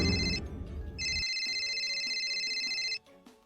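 Cellphone ringtone chiming in two bursts of repeated electronic tones, clear and fairly loud indoors, with a brief pause between them and low background noise before and after.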